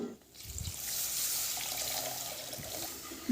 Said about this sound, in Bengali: এবার এই পর্যায়ে দিয়ে দেব জল